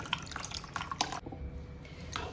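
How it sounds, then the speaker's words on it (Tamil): Water is poured into thick mango pulp to make a homemade mango Frooti drink, giving soft splashing and dripping sounds in uneven bursts, close and fairly quiet. "இதில 4 கப் தண்ணி வச்சிருக்கேன் அதையும் ஊத்தி நல்லா டைல்யூட் பண்ணிக்கலாம்"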